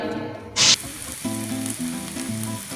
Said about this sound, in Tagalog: Mainit na yung pan natin. Add oil. A little bit. Always just a little bit. Add garlic.